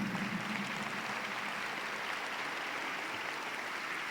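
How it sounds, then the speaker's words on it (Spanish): Scattered, faint applause from a lecture audience, soft and distant, a thin patter of clapping that never builds and stays low throughout. "Veo algunos aplausos tímidos."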